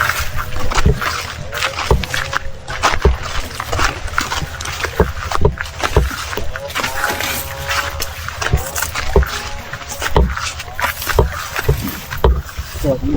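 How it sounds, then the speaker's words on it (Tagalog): A continuously flowing river runs beside a bank lined with banana plants. The water rushes loudly and steadily, broken by repeated splashing knocks, with voices faintly mixed in. "tuloy-tuloy yung agos ng tubig."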